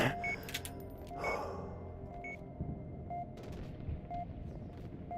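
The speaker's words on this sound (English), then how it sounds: "Oh, and we're getting sniped." Sniper gunfire in a first-person shooter game, heard as a few sharp, distant-sounding shots and impacts over a steady game ambience with repeating interface tones, fairly quiet overall.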